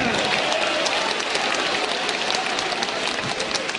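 Church congregation clapping during a Portuguese-language sermon, a loud, continuous burst of many hands close by, with a few voices blended into the sound.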